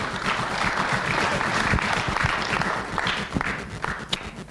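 An audience applauds a speaker at a talk on atrial fibrillation, with dense, sustained clapping from a sizeable crowd that holds steady for several seconds.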